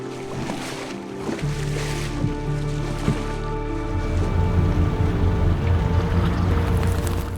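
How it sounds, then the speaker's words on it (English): Ocean waves and wind wash steadily around an expedition ship at sea, a continuous loud rushing that swells partway through, with a low engine-like hum underneath and no voices. "you have to brave the waves on an expedition ship"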